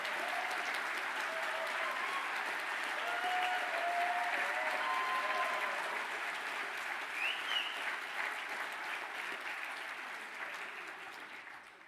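Graduates at a graduation ceremony receive long, even applause from a large seated crowd, the clapping swelling midway and gradually tapering off, with faint murmurs beneath.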